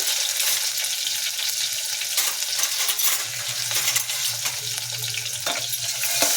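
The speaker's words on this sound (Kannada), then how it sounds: "ಈರುಳ್ಳಿ ಎಲ್ಲ ಫ್ರೈ ಆಗಬೇಕು" Onions fry in a pan for tomato thokku, a loud, dense sizzle filling the whole stretch, with occasional metallic clinks and scrapes as the mixture is stirred.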